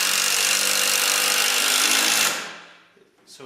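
A power driver runs a screw into a log tenon beside the upright of a metal art bench, a steady loud whirring for about two seconds that then winds down and stops, with faint handling noises after.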